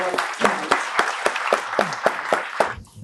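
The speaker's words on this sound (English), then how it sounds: "please join me in giving one more round of applause and a warm welcome to our panelists" An audience at a political panel event applauds to welcome panelists, a steady burst of clapping from many hands that tapers off near the end.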